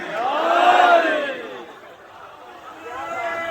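A crowd at a Muharram majlis gathering shouts a religious slogan in unison, a loud swelling collective call that fades, then rises again more faintly.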